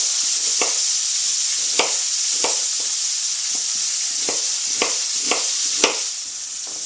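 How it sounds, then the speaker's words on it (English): Vegetables for ratatouille, zucchini among them, sizzle and fry steadily in a pan on the stove, with a constant hiss and a few sharp clacks of stirring or chopping scattered through, close and alone without talk. "I'm sure you can hear that sizzling."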